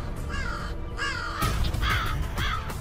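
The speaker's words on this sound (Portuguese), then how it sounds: "Os corvos também são espertos na rua." A crow caws repeatedly outdoors, several harsh, loud calls in quick succession against a rumbling background.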